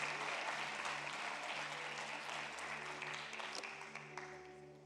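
Applause from a church congregation at a graduation service, a steady broadband clatter of many hands holding evenly for about five seconds, with a low sustained organ or keyboard tone underneath.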